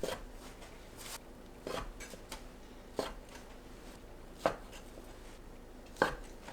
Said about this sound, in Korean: 어묵을 한입 크기로 썰어주세요.